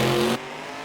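Two extreme 10.5 drag racing hot rods, one with a big 762 cubic inch Gene Fulton motor, roar loudly at the line, a dense engine blast that cuts off abruptly partway through.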